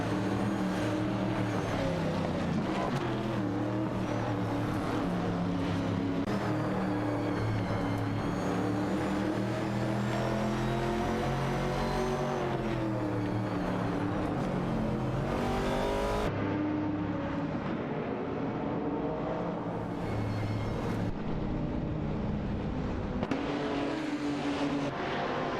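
AI-driven race cars in a racing video game roar continuously, engine pitch rising and falling as they rev and accelerate, with a sudden drop in intensity partway through before the revving resumes.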